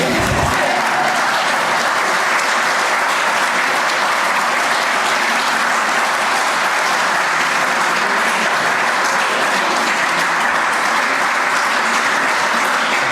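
A large audience at a bridging ceremony claps loudly and continuously, a dense wash of applause that holds steady throughout.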